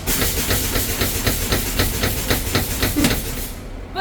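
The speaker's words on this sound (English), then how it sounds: "Spring brake popped up" An air brake on a bus lets out a steady, loud hiss of escaping air as the spring brake pops up during a Class B air brake test, with rhythmic pulses running through the hiss, which ends abruptly.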